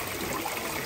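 A freshwater stream fed from Mount Fuji flows steadily, giving a constant soft trickling rush with no breaks, fairly faint and close.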